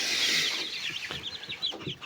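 Newly hatched chicks from a home incubator chirping in a rapid stream of high, rising peeps, fairly close, with a few soft knocks and rustles underneath.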